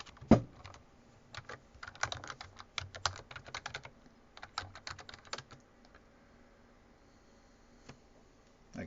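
Someone types a new password on a computer keyboard. Close, light keystrokes come in quick irregular bursts, then thin out to a few isolated taps and a final press.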